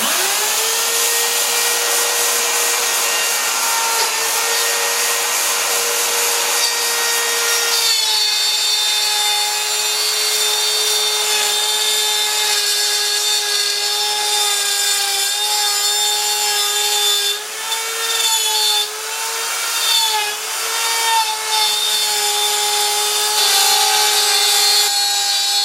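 A router makes a shallow cut through a wooden template, giving a loud, steady high-pitched whine with a rich harmonic edge that holds for the whole stretch and wavers slightly near the end.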